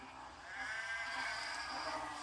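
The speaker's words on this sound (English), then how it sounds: "the farmers unload the sheep" A single sheep bleats faintly in a drawn-out, wavering call over a quiet, hushed background.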